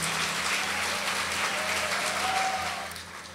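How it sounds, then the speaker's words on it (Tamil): Audience applause at a Women's Day discussion event, a dense, even patter of many hands that holds steady and then tapers off toward the end. "ஒரு உற்சாகமான கைத்தட்டல் கொடுத்து அவர்களுக்கு நம்முடைய பாராட்டை தெரிவிக்கலாம்."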